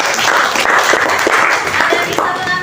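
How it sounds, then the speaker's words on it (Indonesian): A classroom of students claps for a classmate after an answer in a math lesson, a brief burst of group applause with scattered voices mixed in. "tepuk tangan untuk Al-Badar"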